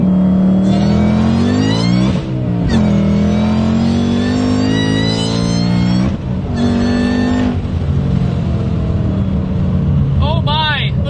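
Car engine fitted with a Whipple supercharger revs hard and repeatedly, its whine rising over the engine roar with brief drops between pulls, loud and close while someone talks over it.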